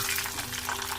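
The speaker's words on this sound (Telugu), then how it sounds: "ఇవి ఆవాలు చిటపట్లాడిన దాకా వేయించుకోవాలి." Mustard seeds and dried red chillies splutter and crackle in hot oil for a tomato chutney tempering, a dense, steady sizzle with fine popping throughout and no voices.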